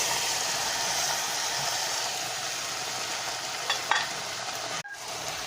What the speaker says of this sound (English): And stir very well.